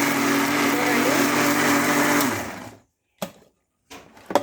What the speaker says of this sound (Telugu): చూడండి ఇప్పుడు నేను మిక్సీ వేస్తున్నాను చట్నీని